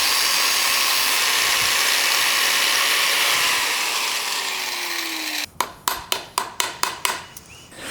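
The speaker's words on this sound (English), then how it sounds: "We'll take the grinding wheel, cut that off" A grinding wheel cuts a fuel line with a long steady whining hiss, then a run of about eight sharp rhythmic knocks and clatters.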